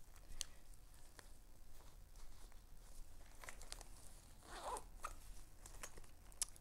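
A purse pocket is zipped closed in a quiet room, with several short zipper rasps and small handling rustles close to the microphone.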